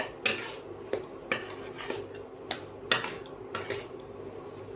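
Gujiya filling roasting in a pan while being stirred, a spoon scraping and knocking the pan in a repeating rhythm roughly every half second, close with a faint sizzle beneath.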